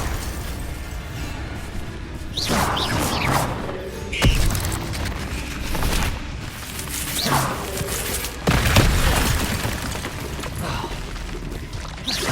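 Confringo blasting spells in Hogwarts Legacy go off as a string of loud booming bursts, four or five rumbling explosions spaced a few seconds apart over a continuous roar of game effects.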